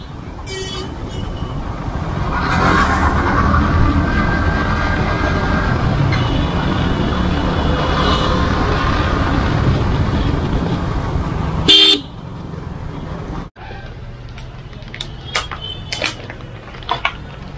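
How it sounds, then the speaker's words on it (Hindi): Busy road traffic at the Teliamura traffic point, with a steady wash of passing cars and engines for about twelve seconds, then a quieter stretch with short scattered horn toots and brief knocks. "ये है तेलीमरा ट्रैफिक पॉइंट।"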